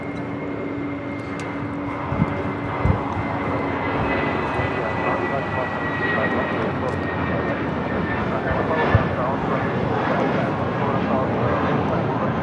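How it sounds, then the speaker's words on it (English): A Delta Air Lines Boeing 757-200 arriving from San Salvador produces a continuous jet engine hum and rumble at moderate distance, with a few brief clicks and knocks scattered through the steady drone. "This flight coming in from San Salvador, Delta Airlines flight 1966 in the"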